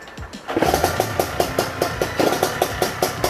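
A Yamaha RX100 motorcycle idling with a coiled aftermarket exhaust, a close, even engine beat with crisp regular exhaust pulses, alone without talk.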